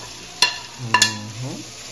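Fried chicken being stirred into macaroni in a pan: two sharp clinks of a spoon against the pan over a low sizzle, followed by a soft scrape.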